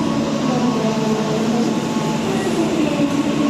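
A passenger train pulling into Solo Balapan station produces a loud, continuous low rumble and rolling drone, steady from start to finish with no talk.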